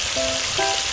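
Tilapia fries in a pan with a continuous loud hiss and crackle of hot oil, close up, with faint brief tones in the background.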